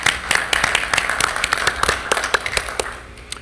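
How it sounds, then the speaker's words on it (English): A school board meeting audience gives a short round of applause: a sparse, uneven patter of separate close claps rather than a dense roar, thinning out toward the end. "That deserves a round of applause."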